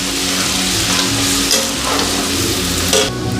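Ginger and garlic fry loudly in a pan for a chicken curry, a dense close-up sizzle that crackles continuously with a couple of brief bursts of stirring.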